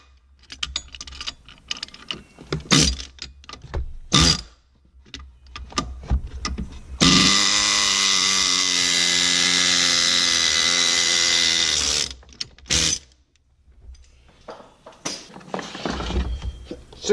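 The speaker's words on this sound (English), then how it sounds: "using the air chisel worked" An air chisel working on the fan clutch of a 6.7 Cummins diesel, a loud, rapid pneumatic hammering burst lasting about five seconds, framed by shorter clanks, scrapes and tool handling before and after.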